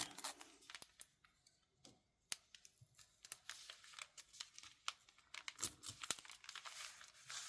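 Paper torn for a junk journal makes quiet, close rips and crinkles in irregular short bursts separated by brief pauses, faint overall with sharper snaps here and there.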